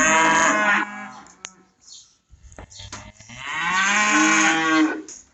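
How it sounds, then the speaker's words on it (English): Calves moo repeatedly at a creep feeder on a farm, loud and close, with long drawn-out calls at the start and end and a quieter gap between. "A couple of calves taking advantage of the creep feeder out there because they figured it out."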